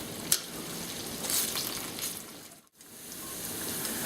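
French fries frying in hot oil, a soft steady sizzle and bubble heard up close, briefly cutting out for a moment before resuming.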